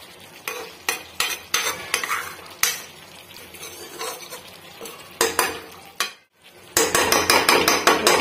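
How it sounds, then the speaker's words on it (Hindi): Spoon scraping and clattering against a pan as a cooked dish with onion is stirred, repeated sharp knocks and sizzling-like scrapes, close and loud, with a brief pause near the end. "इसको थोड़ा सा हिला करके ऊपर नीचे कर दे रहे हैं ताकि, और प्याज जो था ऊपर से जो हम डाले थे चारों तरफ मिल गया।"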